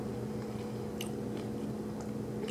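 Close, quiet chewing and biting on a Starbucks chicken wrap and cucumbers, soft wet crunches at a slow pace over a low steady hum, with no talking.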